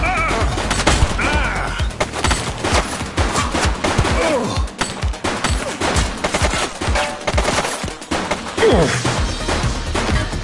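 Rapid, loud gunfire with many shots overlapping into a dense fusillade, joined by crashes and impacts throughout a chaotic close-range exchange.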